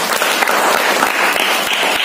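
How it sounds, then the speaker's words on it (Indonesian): Audience applause at a business seminar presentation, a dense, steady wash of clapping from a crowd throughout, even and sustained with no talk over it. "Tepuk tangan buat Energy."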